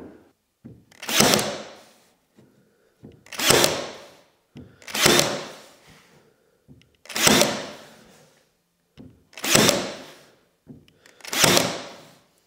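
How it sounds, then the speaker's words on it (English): A jigsaw cutting a curved barn door opening gives six evenly spaced bursts of rasping cutting noise, each building and fading over about a second, with quiet pauses between. "we want to use a jigsaw to trim along our template curved piece here"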